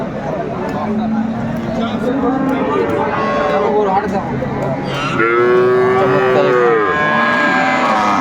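A dairy cow at a busy cattle market gives a loud, drawn-out moo near the end, heard over crowd chatter and voices talking nearby.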